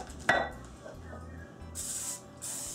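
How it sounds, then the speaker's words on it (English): A short hiss of aerosol spray, then a longer sustained spray burst, with a clunk of a can or pan beforehand in a quiet kitchen. "spray lubricant is always good."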